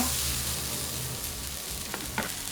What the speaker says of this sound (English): And now for the next step, caramelizing our onions. We're gonna put these on here.